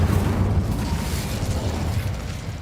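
An Incendio fire spell is cast in Hogwarts Legacy, a loud whooshing burst of flame with a rumbling low end that holds steady and slowly eases off.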